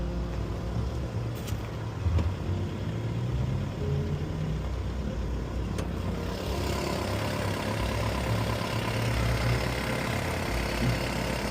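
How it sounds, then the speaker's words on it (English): An Italian car engine that has been sitting for a while idles with a slight hesitation, a steady low rumble running close and unbroken throughout. "This is an Italian engine. An Italian. Doesn't sound the best."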